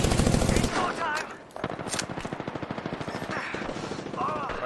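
Rapid automatic gunfire in Apex Legends, a loud burst followed by a steady string of close shots, with a player's voice talking over the shooting.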